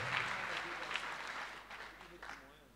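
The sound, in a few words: congregation applauding in church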